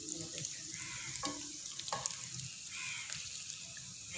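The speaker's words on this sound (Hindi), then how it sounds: "फ्राई करने से नट्स क्रंची हो जाएंगे" Nuts sizzle and fry steadily in a hot pan as a step toward suji halwa, with a continuous bright hiss and a few clinks of a spoon stirring through it; no one speaks.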